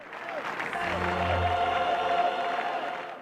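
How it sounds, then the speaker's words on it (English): Large crowd at Pope John Paul II's funeral, a steady wash of applause and cheering with a sustained tonal chant line rising above, dense and continuous throughout. "Jubilant crowds at the funeral of Pope John Paul II."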